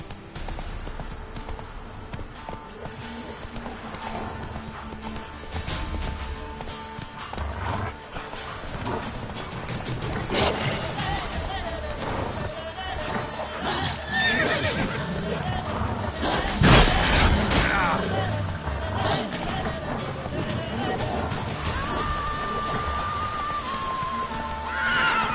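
A horse in the video game The Witcher 3 gallops with continuous rhythmic hoof clip-clops and gives a loud neigh midway, against game ambience and a voice.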